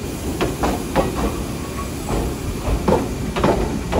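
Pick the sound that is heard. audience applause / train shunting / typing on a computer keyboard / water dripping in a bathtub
train shunting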